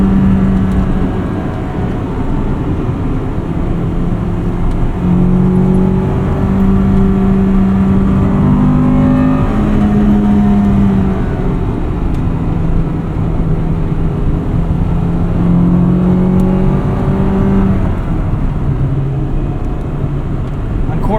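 Interior view of a 1998 Acura Integra Type R accelerating out of corners, engine note climbing and falling in loud repeated pulls with steady road roar, someone talking over it.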